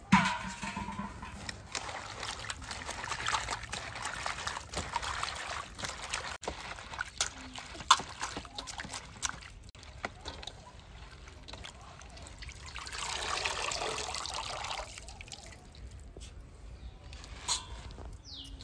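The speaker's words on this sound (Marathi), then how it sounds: "हे पालकचे पानं बुडेपर्यंत पाणी ओतायचे त्याच्यामध्ये आणि पालक स्वच्छ धुवून घ्यायचं आहे" Spinach leaves being washed in a bowl of water for a Maharashtrian palak batata bhaji, with soft trickling, splashing and dripping sounds that come and go close by, and a fuller swell of water noise near the end.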